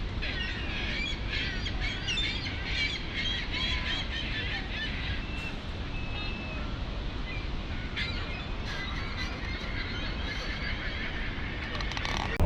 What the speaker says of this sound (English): There go the seagulls getting all mad again.